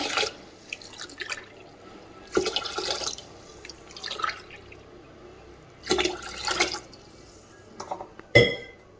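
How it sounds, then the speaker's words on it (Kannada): Four cups of water poured into a pot for pongal with rice and moong dal, heard as several separate splashing pours in bursts with quiet gaps between, close by and moderately loud. "ನಾನು ಈಗ 4 ಕಪ್ ನೀರನ್ನು ಹಾಕ್ಬಿಟ್ಟು"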